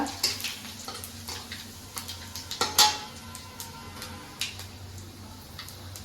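Panch phoron, dry chillies and bay leaves land in hot mustard oil, giving soft crackles and light clinks of utensils against a pan at close range, fairly quiet, with scattered ticks and one brief louder burst.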